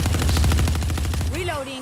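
Automatic weapon fire in Valorant or Halo Infinite, a steady rapid string of loud close shots for over a second, then cut off by a brief synthetic sweeping game sound effect.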